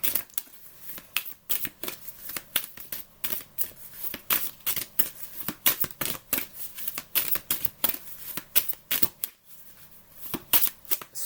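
Tarot cards being shuffled by hand, crisp riffling bursts and flicks repeating in an irregular rhythm, close and clear with no talking.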